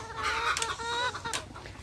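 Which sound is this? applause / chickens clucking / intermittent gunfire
chickens clucking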